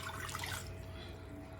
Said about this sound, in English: And then I got a cup of water right here.